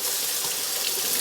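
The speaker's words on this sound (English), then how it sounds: "My hands, wash my hands here." Hands washed under a running kitchen tap while cooking curry goat, a steady close hiss of flowing water splashing into the sink throughout, with no talking.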